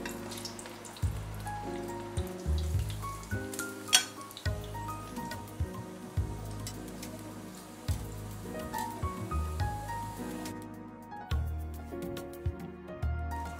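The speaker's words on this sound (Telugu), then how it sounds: "ఇప్పుడు మంచూరియా బాల్స్ని ఫ్రై చేస్తున్నాను." Maggi manchurian balls deep frying in hot oil give a steady crackling sizzle with scattered pops and bubbling, moderately loud and close, with background music running throughout.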